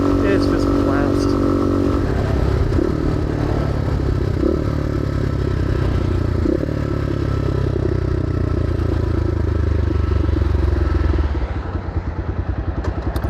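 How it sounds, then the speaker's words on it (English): Modded Gryffin 250 motorcycle with aftermarket exhaust, loud and close, engine rumbling steadily with burbles and pops through downshifts and engine braking, wind buffeting throughout, fading slightly near the end. "that exhaust makes downshifting on this bike a lot of fun"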